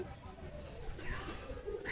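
Domestic pigeons, including a black-eyed hen, coo softly and steadily at close range over faint background noise.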